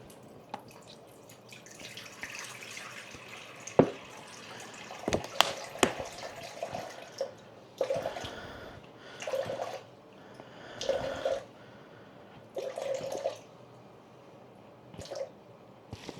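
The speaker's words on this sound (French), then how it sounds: "je prends 500 grammes d'eau non chlorée" Non-chlorinated water being poured for homemade sourdough bread: soft, intermittent splashes and drips into a container, each separated by short pauses, with a faint, quiet background.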